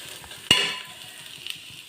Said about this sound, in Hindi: ये बरी भून दी और हरी मिर्च वगैरह भी डाल दी।